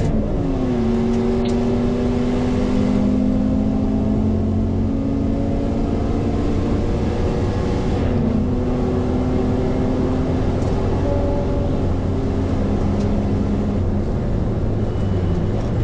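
A misfiring BMW race car at Taupo circuit, its engine droning loud and steady with shifting tonal whine as it pulls away and keeps running, no voices over it.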